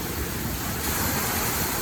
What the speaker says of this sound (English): Waterfall off, and then the waterfall will come back on.